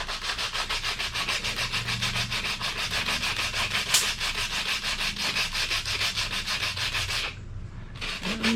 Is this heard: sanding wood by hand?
yes